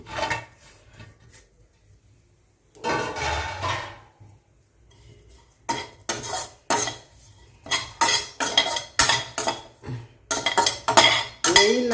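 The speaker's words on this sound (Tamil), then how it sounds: "காய வச்ச ஒரு கைப்பிடி அளவு பூண்டு பொரியும் நான் இங்கே சேர்த்துக்கிறேன்" A handful of dried garlic roasting in a pan is stirred with a utensil, producing repeated close scraping and clattering strokes in bursts, with quieter pauses between them.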